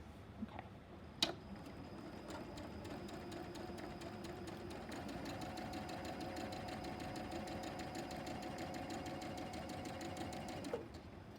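A sewing machine stitches fabric seams with a quiet, fast, even mechanical ticking that runs steadily for about ten seconds, with a faint clunk near the start and end, and no talk.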